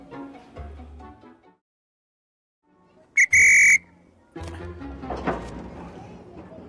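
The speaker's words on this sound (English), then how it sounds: "Original LNER whistle, which he said he used all his life during his time on the railways" An original LNER railway station master's whistle blown once in a short, piercing, shrill blast, with someone speaking before and after it.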